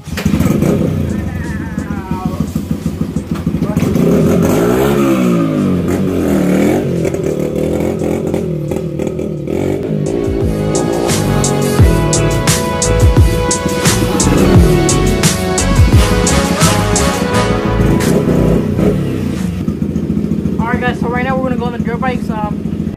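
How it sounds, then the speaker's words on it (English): Dirt bike ridden outdoors on a cold day, its engine revving and climbing through gears in loud, close, sustained bursts with repeated rises and drops in pitch, wind rushing over the microphone. "So we just drove our dirt bike for a little while."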